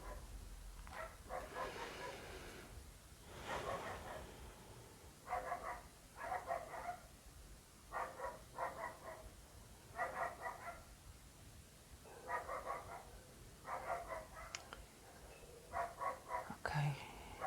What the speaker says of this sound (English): You can hear many dogs barking.